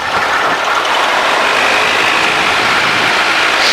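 A light aircraft, G-BOIL, taxiing at walking pace with its engine at idle; a loud, constant, close rushing drone fills the whole stretch, with no talking.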